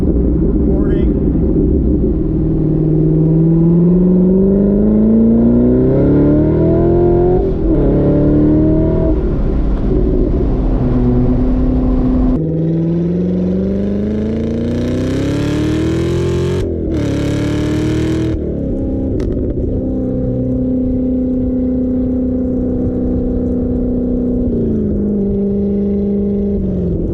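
A 2019 Corvette ZR1 V8 fitted with an AWE Touring exhaust pulls hard through the gears, its deep engine note rising and falling with each shift, loud and steady, while a person talks over it.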